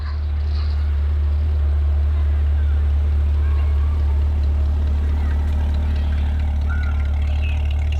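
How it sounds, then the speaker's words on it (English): A 2020 Corvette with a Soul Performance exhaust rumbles steadily, a deep continuous drone that stays loud and even from start to finish, heard from close by. "Soul Performance exhaust sounds good."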